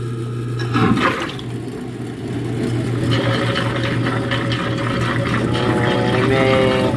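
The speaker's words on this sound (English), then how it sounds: "we're going to turn the garbage disposal on." A kitchen garbage disposal runs with ice, a loud steady motor whir with churning, grinding rattle after a sharp start.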